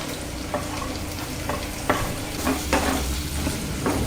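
Onions frying in a pan for a tapioca dish, with a constant sizzle and a few soft scraping stirs of a spoon at irregular intervals.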